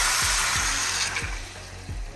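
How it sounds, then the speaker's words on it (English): Water pours steadily into a pot of chicken stew with onion, bell pepper, thyme and Scotch bonnet pepper, making a continuous hissing splash with a few soft low thumps, close and alone. "Now we're gonna add some water."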